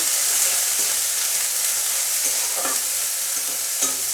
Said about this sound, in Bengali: আমি মশলাটাকে এবার ভেজে নেব।